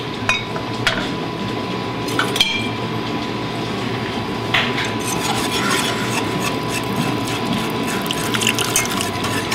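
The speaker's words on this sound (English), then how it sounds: "I'm going to move this to a whisk" A whisk scrapes and rubs steadily against a pot while béchamel sauce for lasagna is stirred, a continuous raspy swishing with occasional light metallic clinks, heard alone without talk.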